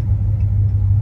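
Road traffic passes nearby as a loud, steady low rumble of car engines, with no voices.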